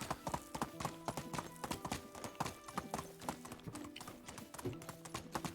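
Horse hooves clip-clop at a steady, rhythmic pace while riding in the video game Medieval Dynasty, moderately loud and continuous with no talking.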